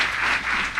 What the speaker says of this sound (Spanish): Un aplauso para Jimé, por favor